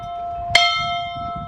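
An old bell on a river landing property gives a single bright strike whose ringing tone hangs and slowly fades over quiet background murmur.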